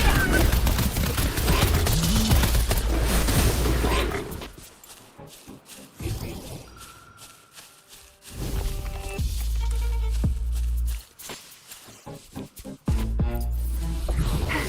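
Gunfire in the Wuthering Waves game during the Wish Upon The Moon event story: loud continuous bursts of shots with heavy low booms, broken by a quieter lull with faint effects, then rapid firing resumes.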